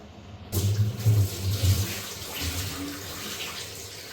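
Water pours into a rice cooker with rice and lentils for khichuri, a sudden gushing splash that starts loud and settles into a softer steady pour.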